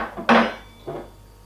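Heavy stainless steel stand mixer attachments, a dough hook, a spatula and a whisk, clank as they are handled. Two distinct metallic knocks, the first louder, with quiet room tone between them.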